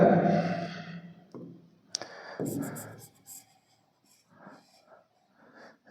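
Pen or pencil scratching on paper while working through a Class 10 maths practice problem, with a few brief strokes and taps after a stretch of breathy noise, fairly close and quiet.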